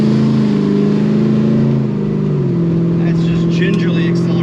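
Heard from inside a 1970 Chevrolet Chevelle 454 SS with a 632ci Merlin big-block V8, the engine drones loud and steady under gentle acceleration, a continuous deep rumble with a faint rise in pitch.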